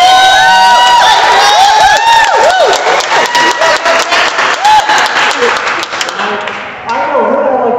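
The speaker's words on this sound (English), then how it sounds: "Let's give a round of applause." Loud, close applause from a political gathering's audience, with cheering and whoops riding over the clapping, and voices audible through it as it tapers slightly toward the end.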